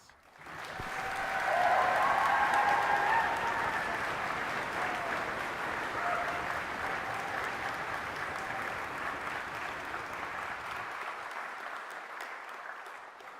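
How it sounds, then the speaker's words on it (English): Graduation ceremony audience at Fife College breaking into sustained applause, swelling quickly to a full, even roar of clapping from a large room that continues steadily before easing off at the end, with faint cheering voices early on. "A huge round of applause"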